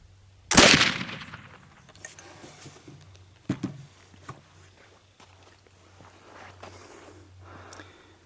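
A homemade black powder rifle fires one loud, close shot with a boom that trails off, then a softer thud follows a few seconds later amid quiet outdoor handling noise.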